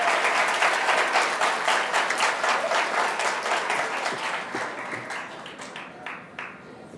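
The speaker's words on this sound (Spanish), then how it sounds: "a quien también le damos un fuerte aplauso" A school audience applauds the deputy principal with loud, sustained clapping and distinct individual claps throughout, tapering slightly toward the end.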